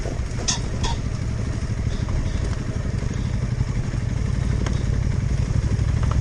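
A Honda CRF 300L motorcycle rides a dirt trail, its engine a steady, loud, close drone with a few rattles and clatters over the whole stretch.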